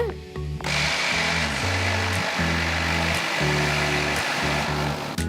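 A mixer grinder whirs in short, stop-start bursts grinding tomato dosa batter with rock salt, its motor pitch shifting between pulses, loud and close, with no talking.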